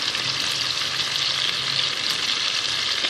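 Garlic frying with chicken in a pan for a chicken stew, a bright, dense, close sizzle that stays loud and unbroken throughout.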